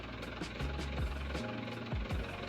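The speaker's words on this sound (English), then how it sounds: "Listen to the sound of that engine." Engine of an unmarked Ford F350 truck in a Roblox game, a steady loud low rumble with rough throbbing pulses and a few brief dips in pitch, heard up close with no talking.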